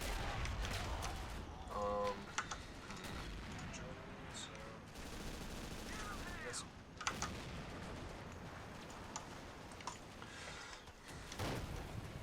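An M3 37mm anti-tank gun firing in a World War II strategy game, single sharp reports scattered among distant battle noise, with a commentator talking over the action.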